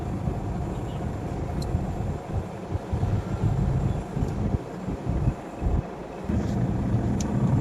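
Steady broadband rumble of traffic on a Philippine highway around midday, with continuous low engine drone and passing vehicles, fairly close and loud, no talk.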